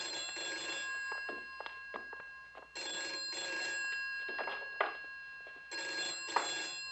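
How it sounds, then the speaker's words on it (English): A telephone bell rings in a 1960s setting, two long bursts of steady electric ringing with pauses between, while faint clicks and rustles sound under it. "Your phone's ringing."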